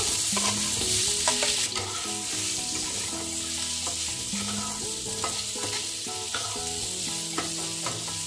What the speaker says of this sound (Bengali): ওই একই কড়াইতে আমি আলুগুলো ভেজে নেব।